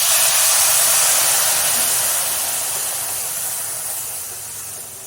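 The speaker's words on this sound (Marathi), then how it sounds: "यामध्ये आता आपण गरम पाणी घालून घेणार आहोत भाजीमध्ये" Hot water poured into roasted masala for a stuffed ridge gourd curry gives a loud, steady hissing sizzle that slowly fades. No one speaks.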